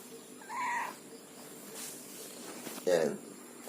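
A pet cat gives two short meows, one early and a sharper one near the end, close by in a quiet room, with soft background noise between.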